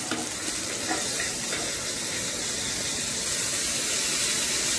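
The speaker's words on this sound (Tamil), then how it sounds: "துளி அளவு வந்து புளி போட்டு நல்லா வணக்கிக்கணும்." Tamarind sizzles in a hot pan for hotel-style coriander chutney, a steady, close frying hiss with a bright spray-like texture running unbroken throughout.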